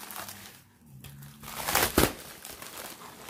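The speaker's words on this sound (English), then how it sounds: "I'm going to cut the bag open because I actually have scissors near me this time" A plastic mailer bag holding an art unboxing order is cut open with scissors, giving close, soft crinkling and rustling of plastic that rises to a sharper snip near the end, with no voice over it.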